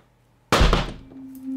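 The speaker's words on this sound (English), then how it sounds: "That's the mic drop." A microphone dropped onto a hard surface in a workshop gives one sudden loud thunk that decays quickly into quiet room noise, heard alone.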